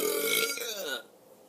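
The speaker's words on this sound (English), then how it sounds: "If you know how to burp on command" Deliberate burps made on command, one long drawn-out belch with a buzzing voiced quality lasting about a second, loud and close, then fading to quiet.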